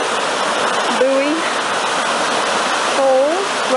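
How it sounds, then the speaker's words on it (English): Waterfall at Florence Falls in Litchfield National Park, a steady, loud broadband rush of falling water filling the whole stretch, with a couple of brief bird whistles rising above it. "there's the water going down, down, down, down, down, down, down."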